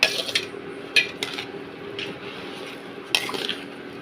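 A metal spoon scrapes and clinks against a pot while basmati ghee rice is stirred, giving sharp intermittent taps and soft scraping, close and fairly quiet, with no one talking.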